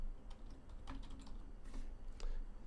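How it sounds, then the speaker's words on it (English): Quiet, close typing of code on a computer keyboard, irregular bursts of light key clicks with brief pauses between, soft and alone without speech. "We'll type it out."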